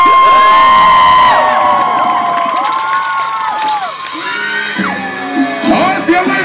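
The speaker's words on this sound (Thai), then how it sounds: "เสียงกรี๊ดเสียงประมือให้กับพี่กอล์ฟ" A large crowd at a 2024 Loy Krathong festival cheers and screams loudly, shrill shrieks and whoops rising over each other, easing slightly before another burst.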